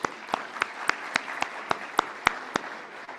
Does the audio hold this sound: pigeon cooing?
no